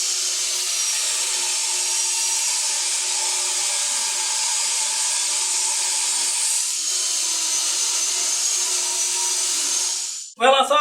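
A table saw rips wooden boards into strips, a loud, steady high whine held for about ten seconds before the blade winds down and a brief knock follows.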